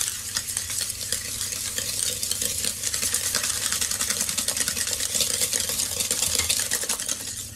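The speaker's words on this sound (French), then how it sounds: "on va mélanger le sucre et les œufs et on va faire blanchir le mélange" Eggs and sugar are whisked together, most likely with an electric beater, to make a pale, foamy batter for Navettes de Marseille. The whirring and scraping run steadily and fairly close, with no talk over them.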